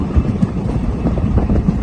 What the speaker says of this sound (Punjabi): ਟ੍ਰੇਨ 'ਚ ਜਾ ਰਹੇ ਹਾਂ ਅਸੀਂ